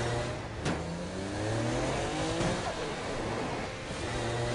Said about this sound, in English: as you can see, driving is fast, fluid, and fun